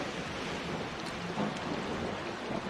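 A heavy rainstorm pours down at a hummingbird nest, a steady dense hiss of rain with no pauses and no voices.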